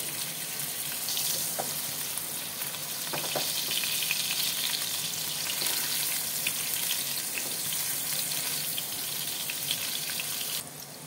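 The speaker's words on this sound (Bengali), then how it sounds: "তেল গরম হয়ে গেছে, পনিরগুলোকে আমি ভেজে নেব" Paneer pieces frying in hot oil, a dense, even sizzle that holds steady and close for several seconds, with faint scattered crackles and no talking.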